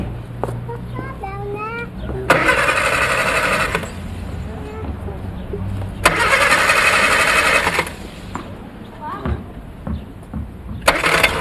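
An old 1970 motor car engine cranks in two long, loud grinding bursts separated by a pause, with a third starting at the end, while a voice talks around them.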